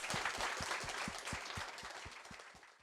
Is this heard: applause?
yes